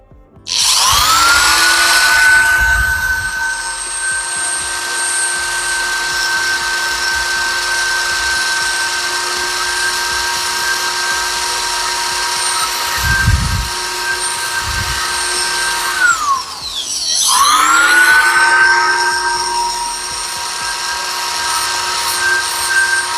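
A 280W screwdriver-drill machine whines at steady high speed while drilling into wood, spinning down briefly near the end before revving up again, loud and close with no speech.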